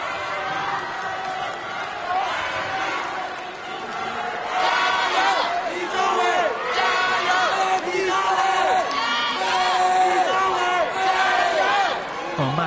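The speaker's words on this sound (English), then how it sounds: "massive support from the French in the crowd here in Glasgow" A French crowd cheers and chants in a badminton arena in Glasgow, a loud sustained roar with rising shouts and whoops that swells partway through.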